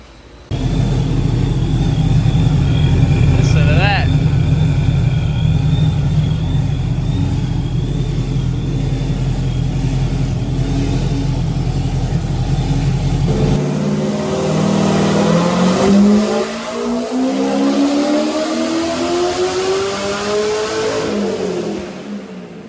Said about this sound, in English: Let's do some pulls on this thing and see what she does on the dyno